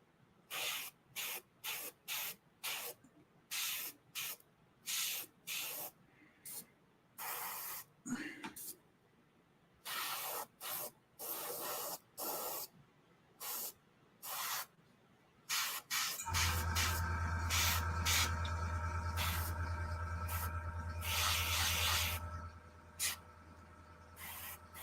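An airbrush spraying paint in a long run of short, sharp hissing bursts, then one sustained louder spray near the end. Close and fairly loud, alone without talk.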